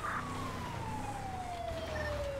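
A single long police car siren tone slowly glides downward over a steady low engine rumble, sounding moderately close.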